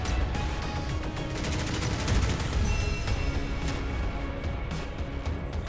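A helicopter's cannon fires in the naval combat game Modern Warships, a rapid burst of repeated gunshot cracks in quick succession, loud and dense, with no talking.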